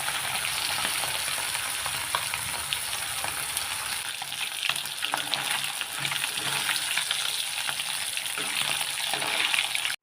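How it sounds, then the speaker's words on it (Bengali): Hilsa fish fry in hot mustard oil in a pan with a loud, dense, unbroken sizzle and crackle, heard close throughout with no talking. "এখন সরিষার তেল দিয়ে মাছগুলো আমি ভাজে নিচ্ছি"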